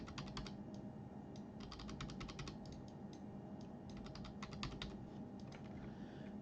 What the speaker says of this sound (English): And then I'll just click on the arrow keys, do 5 spaces.